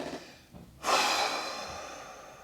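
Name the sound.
person taking slow deep breaths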